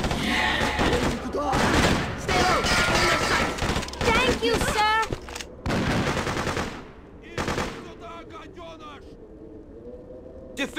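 Rapid bursts of gunfire from the Freedom Fighters video game, set in winter on Governor's Island, crackle loud and close, mixed with shouted voices and thuds before thinning out to scattered shots.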